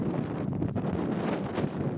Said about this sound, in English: We're still seeing strong wind gusts